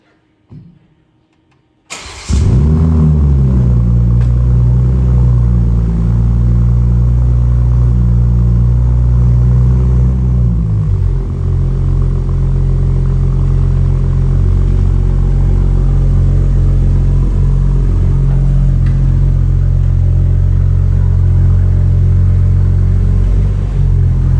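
A Toyota Supra A90 with a freshly built transmission and new TCM cranks after a brief quiet moment, then settles into a loud, steady, deep engine rumble that shifts slightly in tone partway through and keeps running without talk.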